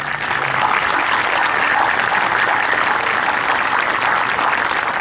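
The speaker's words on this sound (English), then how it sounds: "if we can have a little round of applause for these people" Steady applause from a crowd at a 2021 school promotion ceremony, continuous clapping held at an even level throughout without letting up.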